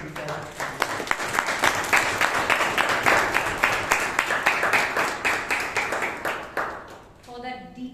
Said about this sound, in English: a big round of applause to Toastmasters